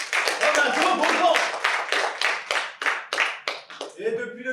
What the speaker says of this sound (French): On applaudit pour lui.